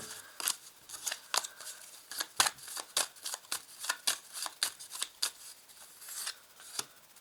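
Tarot cards being shuffled and drawn by hand: a close, steady run of crisp riffling and flicking snaps, repeated many times at an uneven rhythm, with no voices.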